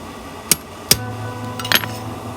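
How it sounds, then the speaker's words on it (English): Three sharp hammer blows ring out on steel, two close together then a third after a pause, as blacksmith tong pieces are hammered together on an anvil ahead of a forge weld, with a faint ringing hum between strikes. "Then we just need to hammer them together"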